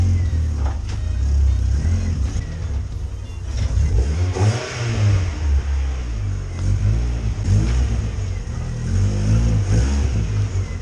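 A just-started project car engine idles and revs loudly and close by, a steady low rumble rising and falling across the whole stretch with no talking over it.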